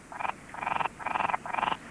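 Frogs croaking in four rapid, pulsing bursts, each a quick buzzing trill, fairly close and clear over a quiet background with no voices.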